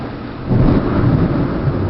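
Loud thunder from a June thunderstorm rumbles close by, a heavy low roar swelling after half a second and rolling on steadily over the patter of rain.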